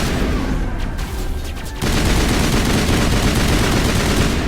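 Assault rifle fire in the video game Mass Effect: a short lull of scattered noise, then a loud, sustained burst of automatic gunfire that continues steadily to the end.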